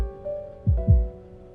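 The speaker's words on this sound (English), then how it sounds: "can you hear my heartbeat?" A video game heartbeat sound effect thumps twice in a close double beat, low and soft over a faint sustained tonal hum.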